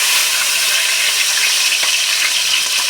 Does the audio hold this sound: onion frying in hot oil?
yes